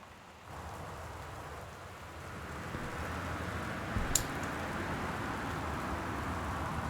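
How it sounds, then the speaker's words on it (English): Steady rain falling outdoors, a soft, continuous patter that begins abruptly and holds at an even level, with one brief sharp tick partway through. "That's just rain."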